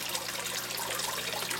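Water rushes steadily through a swivel-head faucet aerator in an aquaponics setup, giving a dense, continuous hiss at close range.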